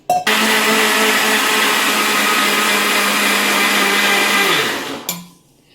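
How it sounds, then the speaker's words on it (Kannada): A kitchen mixer grinder blends soaked rice rava with a little water into a smooth batter, a loud steady whirring drone that runs for about five seconds, then winds down and stops abruptly. "ನಾನು ಇದನ್ನು ಕೂಡ ನಯಸ್ಸಾಗೆ ಮಿಕ್ಸಿ ಮಾಡ್ಕೊತೀನಿ ಸ್ವಲ್ಪ ನೀರನ್ನು ಸೇರಿಸಿ"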